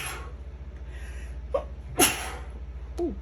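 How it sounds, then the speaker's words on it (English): A single sharp sneeze from a woman, preceded by a couple of short inhaled catches, over a low steady hum. "Have you ever had such a good sneeze?"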